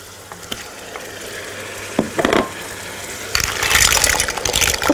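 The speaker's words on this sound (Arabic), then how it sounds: "التمرون او الجمبري، الجندفلي، وكمان هاخد السبيط وابتدي اتبل فيهم على طول واشوح فيهم" Shrimp and squid go into a hot pan and sauté, bringing a few scattered clinks and stirring scrapes, then a loud surge of wet, bubbling sizzle that stays close and busy, with no voices.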